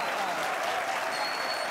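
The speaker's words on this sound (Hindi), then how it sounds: "इकट्ठे होकर तालियां बजाया करो" Audience at a comedy poetry show clapping together, a dense, steady wash of applause that fills the short stretch at an even loudness, with no voices rising above it.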